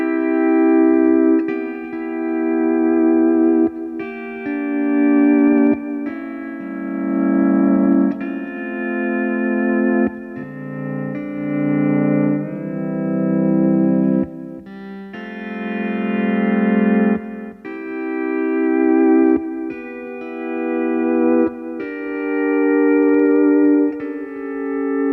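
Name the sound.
pedal steel guitar playing There's Something About That Name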